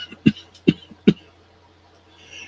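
Three short, sharp coughs in quick succession, about a second apart, close and fairly loud over a quiet room with a low steady hum, at a live online vintage auction.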